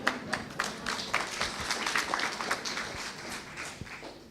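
Audience applause at an association's general assembly, a moderately quiet patter of many hands clapping steadily throughout, with a few sharper individual claps standing out.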